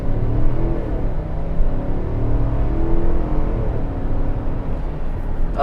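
A 2021 Chevy Tahoe High Country accelerates hard at full throttle, its engine roaring loud and close from inside the cabin. The pitch climbs steadily through the gears over heavy low rumble, with no talk.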